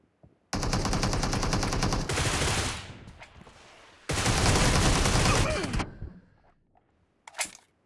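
Rapid automatic gunfire from Groza and AKM rifles in a video game, two long loud bursts separated by a short pause, followed by a brief single sharp report near the end.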